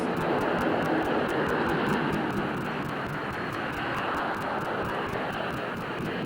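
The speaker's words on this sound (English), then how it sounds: "The RAF's Harrier GR7 is a very different machine to ones that were displaying here over 25 years ago" An RAF Harrier GR7 jet flies at an air show, a loud, steady broadband engine roar that holds throughout with a rapid regular pulsing in the upper range.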